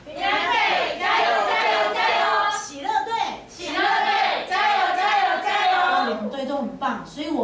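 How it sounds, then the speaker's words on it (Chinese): A group of children cheer for their team at an Easter party event, chanting rhythmic shouts in loud close bursts with brief pauses and some claps mixed in. "我们来听听看他们的欢呼声好不好？"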